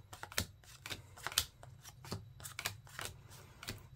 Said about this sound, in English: Just bear with me on the... shuffling here.